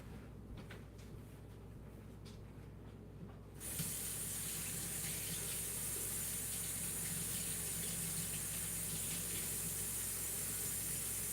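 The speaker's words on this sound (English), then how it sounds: "I'm gonna go wash my hands." A kitchen faucet runs steadily for handwashing, starting abruptly after a few seconds of quieter room tone, then a continuous close hiss and gush of water that holds to the end.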